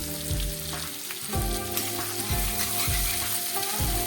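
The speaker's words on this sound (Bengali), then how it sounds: "পেঁয়াজটা ভাজা হয়ে এসছে, এবার এর মধ্যে আমি দিয়ে দিচ্ছি কিছুটা থেতো করা রসুন" Onions fry in a pan with crushed garlic added, a loud continuous sizzle close by, marked by regular scraping strokes and crackling spatter throughout.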